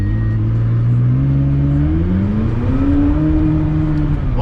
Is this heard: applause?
no